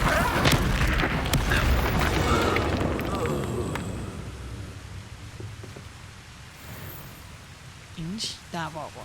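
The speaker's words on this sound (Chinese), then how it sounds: "引起大爆炸。" A big explosion goes off in the video game Hogwarts Legacy, with a loud broad rumbling blast at the start that slowly fades over several seconds, followed by brief swooshing spell effects near the end.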